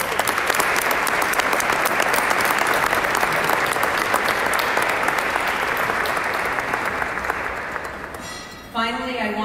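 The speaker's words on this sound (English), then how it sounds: "let's give TAA volunteers a huge round of applause" A gala audience gives volunteers a loud, sustained round of applause, thick close clapping that fades near the end before a speaker resumes talking.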